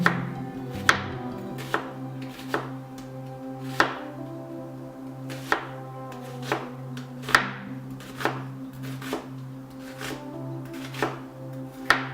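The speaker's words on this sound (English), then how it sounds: "Next, I'll slice the onion, but I'm gonna do it without using knife for chopping." Regular chopping taps on a cutting board repeat about once a second over a low steady hum, close and crisp, as an onion is sliced without a knife.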